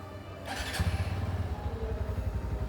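A new Hero Glamour X motorcycle engine starts with a brief starter whir and catches within a second, then settles into a steady, close, pulsing idle.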